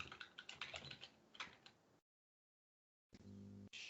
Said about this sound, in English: I wonder why I type so much when I'm typing up these notes